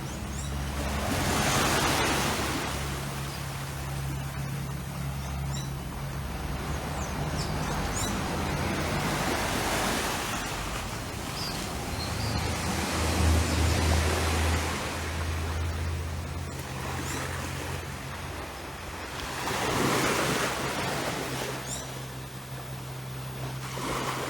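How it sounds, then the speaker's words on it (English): Steady ocean surf washing onto the shore at a West Coast beach, with broad swells of crashing waves rising and falling every few seconds, no voices. "You're probably just hearing the sea this morning."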